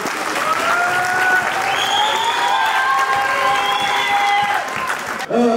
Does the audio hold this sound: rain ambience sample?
no